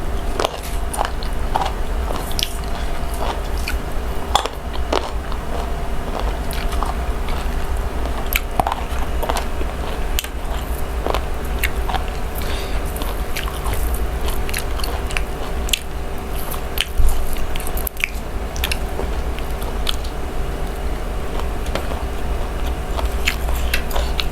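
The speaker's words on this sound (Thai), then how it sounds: "ก็ยังมีกระดูกให้เคี้ยวอยู่ค่ะ" Close, steady crunchy chewing of stuffed frog with bones, eaten with hot rice, chili dip and puffball mushrooms, with bites and soft squishes repeating over a constant background hum and no talk.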